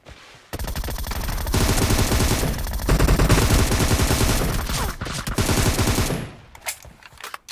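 Gunfire in the mobile game PUBG Mobile: dense automatic bursts rattle almost continuously for several seconds, loud and close, then stop and give way to a few scattered shots.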